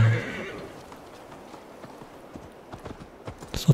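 Horse hooves clip-clop steadily while riding in Assassin's Creed Valhalla, preceded by a brief neigh at the start, with faint game ambience and a louder thump at the end.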